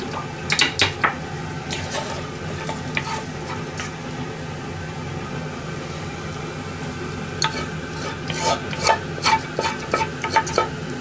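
Rice noodles with maitake and oyster mushrooms being stir-fried, a steady sizzle under busy clattering and scraping of a utensil in the pan, with bursts of rapid tossing near the start and end.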